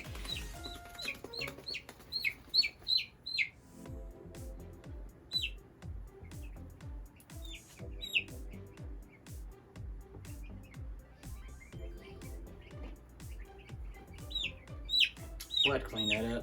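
One-week-old baby chicks peeping in bright, rapid bursts, loudest at the start and end, with a person talking over them throughout.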